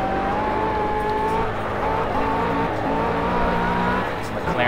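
A McLaren race car in the Project Cars video game, its engine holding a steady, loud, high drone with slight pitch shifts as it drives, continuous throughout with faint talk underneath.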